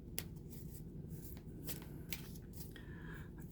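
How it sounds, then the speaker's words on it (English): Tarot cards shuffled by hand in quick papery riffles and slides, a few sharper snaps standing out over a steady low background hum, close and fairly quiet with no talking. "I thought I was done shuffling."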